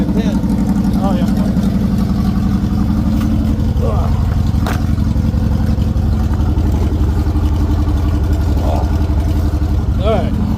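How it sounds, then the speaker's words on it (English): A 1958 Goliath car engine idles with a steady low rumble throughout, close and loud, while people talk over it. "Can't believe it's just sitting there idling."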